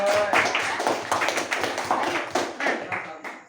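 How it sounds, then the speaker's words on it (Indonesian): Schoolchildren in a classroom clapping hands together, a rapid, uneven run of sharp claps close by, with voices mixed in among them. "berikan tepuk tangan untuk sektor"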